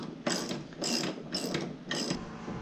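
An impact wrench loosens a bolt during installation of a 129-inch rail, firing in four close, loud rattling bursts separated by short pauses.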